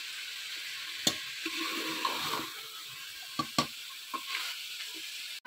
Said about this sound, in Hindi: जी कचनार की देखिए मैं भुनाई कर रही हूँ बहुत अच्छे तरीके से।